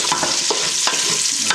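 A wooden spoon stirs jollof rice with onions in a hot pot, scraping in several quick strokes over a steady close sizzle of frying.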